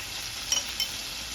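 Eggplant pieces fry in a hot pan with turmeric, a steady, close sizzling hiss with two light utensil taps partway through.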